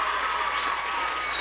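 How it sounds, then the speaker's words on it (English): Crowd at a women's gymnastics all-around final cheers and applauds in a continuous, moderately loud roar of clapping and voices, with a faint whistle-like tone running through it. "Listen to the crowd."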